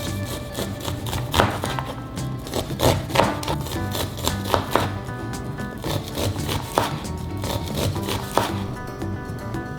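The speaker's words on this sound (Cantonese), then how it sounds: "我哋而家切咗個粟米先。" A knife cuts kernels of fresh corn off the cob on a board, making a steady run of close, crisp chopping and scraping strokes with no speech.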